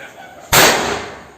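A single Vishu firecracker bursts outdoors with one sharp, loud bang after a quiet lead-in, its noisy blast trailing off slowly into a fading rumble.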